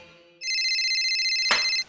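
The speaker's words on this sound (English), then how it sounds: "Turn off your cell phones." A cell phone ringtone sounds once, a bright, steady electronic tone lasting under two seconds that ends with a sharp hit, heard alone on a comedy newsdesk show.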